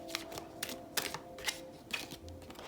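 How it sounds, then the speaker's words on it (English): Tarot cards shuffled by hand in a quiet room, a series of crisp riffling bursts spaced roughly half a second apart, close and soft. "Let me give these a shuffle."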